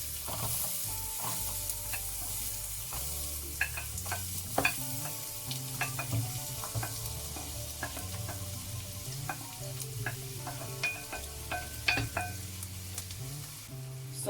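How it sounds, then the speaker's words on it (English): Onions fry in oil in a pan for a Ugandan cassava and beans dish, a constant sizzle under repeated scraping and stirring strokes with a few sharper knocks of the utensil. "So we're gonna cook our onions until they are golden brown."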